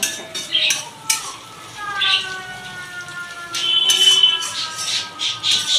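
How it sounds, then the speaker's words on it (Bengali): Onions for chicken biryani fry in a pan while a utensil scrapes and clinks against the metal. Stirring strokes come in irregular bursts over a soft background sizzle, with no talk. "এটাকে একটু হালকা ব্রাউন কালারের করে ভাজবো পেঁয়াজটা।"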